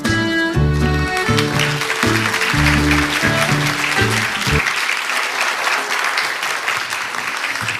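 A large audience at an AI global forum in Seoul claps enthusiastically and steadily, with music playing underneath for the first half before the applause continues alone.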